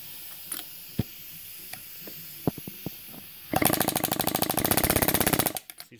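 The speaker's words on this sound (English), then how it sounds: "Grab your air chisel here." A pneumatic air chisel hammers on a Honda Integra front wheel bearing, with a few isolated metallic taps and clanks, then a loud, rapid, continuous burst of hammering for about two seconds before it stops.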